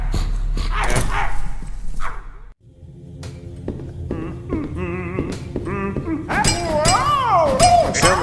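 A dog barks in a public park, sharp repeated barks cutting through a noisy scene with clinking sounds and a person's voice talking over it.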